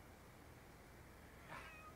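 A cat meows in The Sims 4 game, a single short, faint mew rising briefly about halfway through over a quiet steady background hum.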